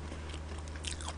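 Braised beef short ribs, galbi-jjim, are chewed close to the mic in a steady run of soft crunching and squelching bites over a low background hum.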